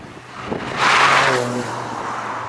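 The turbocharged three-cylinder engine of a Toyota GR Yaris swells into a brief raspy burst, peaking then fading to a steady hum, with some wind noise in the background.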